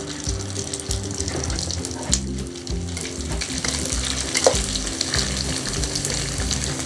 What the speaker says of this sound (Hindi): दूसरे भी ऐसे ही फ्राई करेंगे।